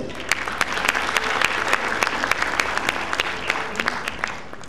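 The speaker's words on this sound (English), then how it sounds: "Let us give them one more round of applause" An audience at a destination wedding event applauds continuously, a dense round of clapping with sharper individual claps standing out, steady and fairly close.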